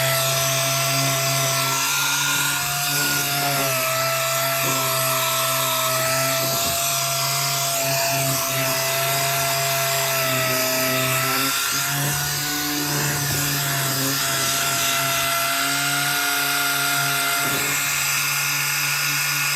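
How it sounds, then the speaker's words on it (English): A power sander works on the textured metal coin door of a Spy Hunter arcade cabinet, giving a loud, continuous high-pitched whine with small shifts in pitch as the pressure changes, with no talk. "I'm just kind of sanding the texture a little bit smooth on the coin door itself"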